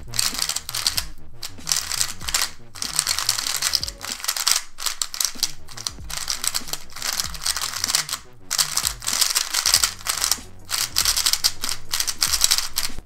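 An MF3RS3 speed cube being turned produces a rapid, continuous run of crisp plastic clicks and clacks with short pauses, close to the microphone.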